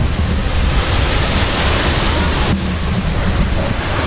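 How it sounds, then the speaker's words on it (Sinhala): Rushing water at Lakshapana waterfall, a steady dense broadband roar that holds at an even level throughout with no breaks, close and loud. "ලක්ෂපාන ඇල්ල ළඟම ඉන්නේ."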